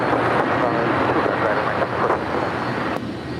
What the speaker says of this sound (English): That was American 238 departing to New York.